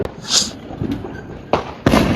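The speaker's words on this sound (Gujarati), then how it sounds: "શણગાર્યું તો ઘણું ફટાકડા ફૂટે છે" Several firecrackers burst at intervals at a decorated street celebration, sharp cracks separated by quieter pauses, fairly close.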